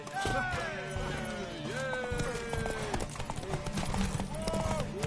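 Rhythmic horse hoofbeats in a video game clip-clop steadily beneath a busy mix of game music and voices, with a tonal melody gliding over the top.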